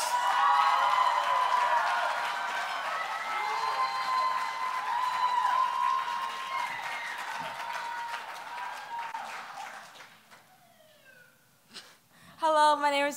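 Audience applause at the Verselandia 2013 poetry slam, long and steady with shouts and whoops, dying down toward the end before a short new burst of clapping and cheers.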